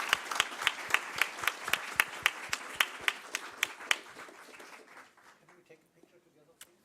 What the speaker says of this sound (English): please give a huge applause for this great panel